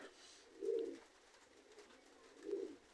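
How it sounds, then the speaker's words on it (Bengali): Two soft, low coos from a pair of Pakistani high-flyer pigeons, one early and one near the end, over a quiet hum of background noise. "এটা কিন্তু একজোড়া পাকিস্তানি র ব্লাড লাইনের হাই ফ্লেয়ার কবুতর"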